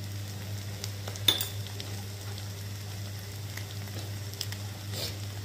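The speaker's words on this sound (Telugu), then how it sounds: "ఈ పచ్చివాసన పోయేంత వరకు ఒకసారి వేపుకుందాము." Egg fried rice with salt, chili powder and turmeric stir-fried in a pan, giving a steady low sizzle with a few sharp scraping clicks of a spatula; close, no talk.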